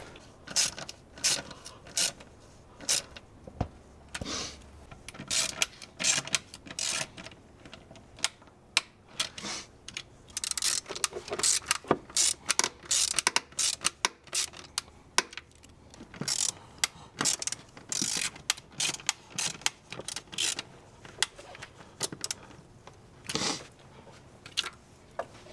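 A hand ratchet tightens the bracket mounting hardware during a BMW PCV breather system replacement, giving close, loud bursts of rapid clicking in uneven runs with short pauses between them, and no talking.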